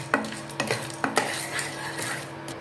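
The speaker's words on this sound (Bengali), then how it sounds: "দিয়ে আরো ভালোভাবে এটাকে রোস্ট করে নিতে হবে।" Nutmeg, mace and whole spices roasting in a pan, several sharp scraping strokes of a metal spoon against the pan over a light sizzle, close and without voices.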